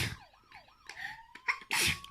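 A single sharp sneeze bursts out at the very end, close and loud, after a voice with rising and falling pitch and a brief breathy sound.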